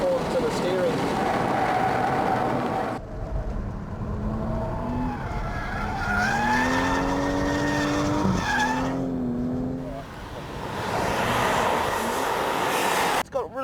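A turbocharged car with a Tiptronic gearbox is driven hard around a circuit, its engine note rising and falling through revs while tyres squeal and skid in long bursts, with a voice talking over parts of it.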